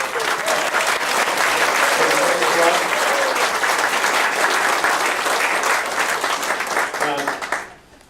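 Sustained round of applause from a dinner crowd at a 50th anniversary dinner, dense and steady throughout before trailing off abruptly near the end, with a few voices faintly mixed in.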